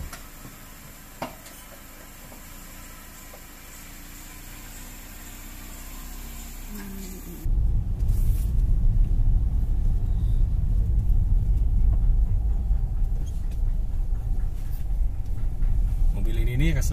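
Honda Brio RS with a CVT transmission pulls away: a low, steady engine rumble swells suddenly partway through and holds loud and close as the car drives on, with quiet cabin sounds before it.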